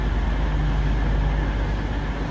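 A train at platform 2 of a London station idles with a steady low rumble and broadband hum, constant and fairly loud throughout, with no voices.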